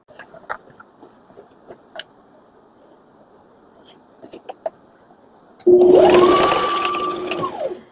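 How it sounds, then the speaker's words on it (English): Sewing machine backstitching fabric for a small organizer: soft ticks and taps at first, then a loud, steady mechanical whir of stitching begins suddenly and runs close up for about two seconds before easing off. "I backstitch 3 times because I don't want the stitching to rip when I'm turning it right side out."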